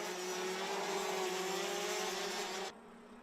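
DD2 racing karts at the Rotax Euro Trophy 2019 in Genk sweep through a right-hander in a Masters final, a loud sustained two-stroke engine whine held steady for nearly three seconds before cutting abruptly to quiet.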